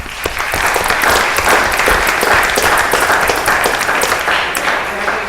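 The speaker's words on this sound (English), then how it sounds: "So a big round of applause to all these gentlemen." An audience at a board of trustees meeting applauds scholarship recipients with a full, steady round of clapping that holds from start to finish, with a few sharper individual claps standing out.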